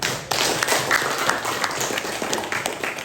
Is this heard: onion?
no